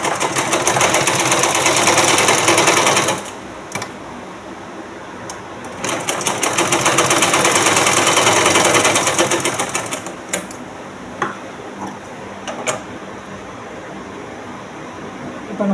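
A sewing machine stitches a blouse in loud, rapid bursts of whirring stitching, a few seconds each, separated by pauses filled with small clicks and handling noises.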